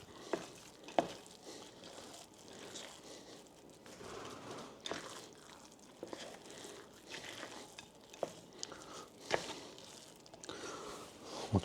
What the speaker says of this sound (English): So we'll just mix them in with a wooden spoon.